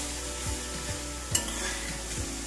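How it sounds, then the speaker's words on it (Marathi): Coconut and jaggery modak filling being stirred in a pan, with soft regular scrapes of the spoon over a steady low sizzle and one sharper clink, close up and with no voices. "सारखं हे हलवत राहायचंय"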